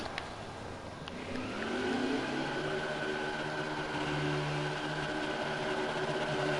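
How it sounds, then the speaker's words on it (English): A stock car's engine roars steadily in NASCAR Heat 4 during a post-race burnout, a loud sustained revving drone with rising pitch and tire noise, continuous throughout with no talk. "Yes, I want a burnout."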